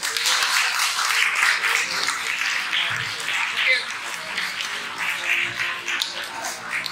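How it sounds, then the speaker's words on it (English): Audience at a vocal competition final claps with scattered, uneven hands and some louder individual claps, while voices and crowd murmur run underneath. "Loudest applause, please."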